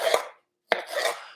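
A knife slices through peppers for a one-pan breakfast skillet, with two close, crisp cutting strokes against a board separated by a short silence.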